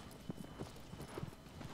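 Horse hooves galloping in the video game Shadow of the Colossus, a quiet rhythmic clip-clop of repeated hoofbeats over faint ambient game sound.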